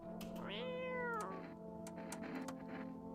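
A cat in a video game lets out one clear, drawn-out meow with a rising-then-falling pitch, close and distinct over a steady background hum and scattered clicks.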